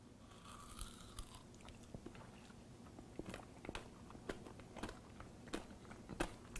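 Someone bites and chews the creme filling of a Peeps Oreo cookie close to the mic, with soft crunches and irregular mouth clicks across the whole stretch.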